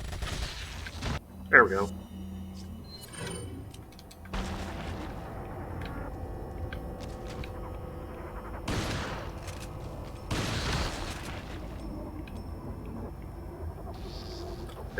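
Shotgun fire in the video game Resident Evil 4: a few sharp, loud blasts spaced seconds apart over a low game ambience, with a voice speaking briefly between shots.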